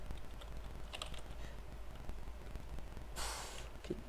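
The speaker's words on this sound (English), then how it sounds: "Keep typing stuff wrong." Faint computer keyboard typing, a few soft clustered key taps over a quiet room hum, followed by a brief breathy noise.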